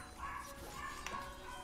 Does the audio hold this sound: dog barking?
yes